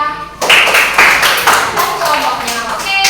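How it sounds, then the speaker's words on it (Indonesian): A classroom of students applauds a classmate, loud, close, irregular clapping that bursts in suddenly and keeps going, with voices mixed in. "Beri tepuk tangan buat Mbak Akila."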